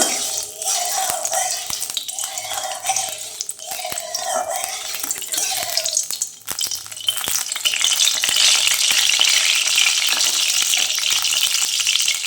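Mustard oil heating in a pan, making a steady, loud hiss and sizzle that builds and stays dense and constant, with faint clinks and a few pulsing stirring sounds early on.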